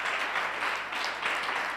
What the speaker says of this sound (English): Anyone clapping hands for Jesus?